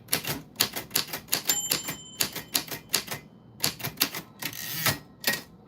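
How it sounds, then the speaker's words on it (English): Clacking keys struck on a typewriter in a quick, uneven rhythm of sharp bursts with short pauses, close and clear. "if you want to give me your name, I will add it on the typewriter"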